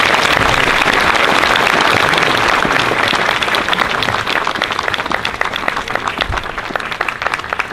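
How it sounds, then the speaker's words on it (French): Loud, dense applause from a large audience at a formal handover ceremony, steady throughout and close. "Nous applaudissons bien fort."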